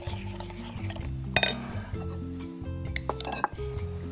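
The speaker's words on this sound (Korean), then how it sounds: "완성 접시를 가져오겠습니다." A ceramic serving plate brought out and set down in a kitchen while seasoned acorn jelly salad is plated, with sharp clinks and knocks of dishes and utensils over a background hum.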